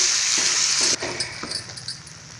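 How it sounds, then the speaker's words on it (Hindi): Finely chopped tomatoes fry in a pan for hari matar nimona, a bright steady sizzle that suddenly drops as they go in, followed by softer crackling and a few stirring knocks. "ये हमारे पास 2 टमाटर बारीक कटा हुआ है, इसको भी डाल के हम 2 मिनट भून लेंगे"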